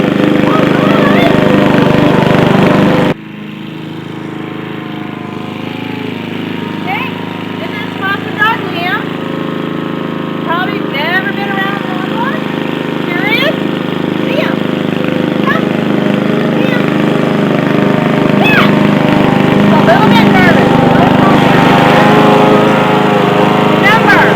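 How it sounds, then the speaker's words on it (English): A lawnmower drones loudly and steadily throughout, with short high chirps and squeaks from a dog scattered over its rumble. "He hasn't been near a lawnmower before."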